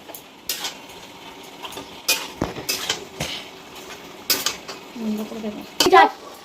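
Fried spices stirred into a chachchari of malabar spinach, bottle-gourd greens and fish head, with a utensil clanking and scraping against the pan in irregular close knocks over a quiet background, with brief speech in places.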